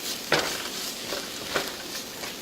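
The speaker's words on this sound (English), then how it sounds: "Give it a nice stir so it doesn't burn" Garlic frying in a pan while being stirred: a soft steady sizzle broken by a few brief scraping strokes of the utensil, and no talking.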